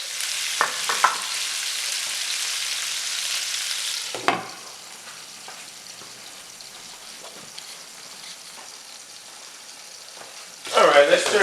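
Peppers and onions hit a hot frying pan, giving a loud, close sizzle that drops to a softer crackle after a few seconds and flares up again near the end.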